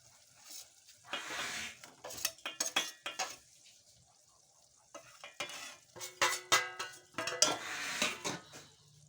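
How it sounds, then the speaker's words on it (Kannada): Ladle stirring a mixed-legume bharta in a metal pot, with repeated scraping and clinking strokes in bursts separated by brief pauses, close and fairly loud, with light sizzling underneath. "ಇದಿಷ್ಟು ಹಾಕಿ ಕಲಿಸ್ತೀನಿ ನೋಡ್ರಿ"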